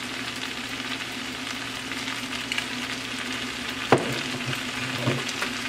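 Chicken chow mein being stir-fried in a hot pan with sauce, a loud continuous sizzle with scraping stirs and a sharp clank of a utensil near the end.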